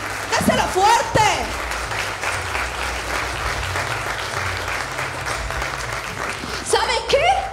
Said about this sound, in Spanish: Denle un aplauso al padre.